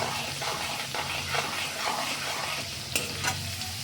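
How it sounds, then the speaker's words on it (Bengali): Australian green beans fry in hot oil with a continuous close sizzle, and a spatula stirs them now and then with a few light clicks against the pan. "এই দেখো এভাবে ভাজতে হয়।"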